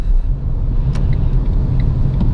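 Low, steady engine and road rumble inside a 2017 Renault Duster 2.0 16V Dynamique manual flex-fuel while driving, a constant droning hum with no speech over it.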